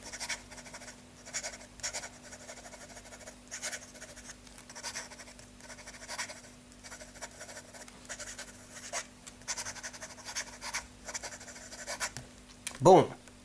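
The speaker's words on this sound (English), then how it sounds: "if we are going to do some fast writing" A Marlen Aleph fountain pen with a fine platinum nib writes quickly across paper, a soft continuous scratching that runs through the clip in short bursts, with a louder scrape near the end.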